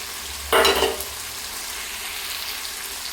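Fried, crushed rohu fish head tipped into a pan of sizzling Malabar spinach greens gives a sudden loud burst of frying, easing back to a soft steady sizzle as it is stirred.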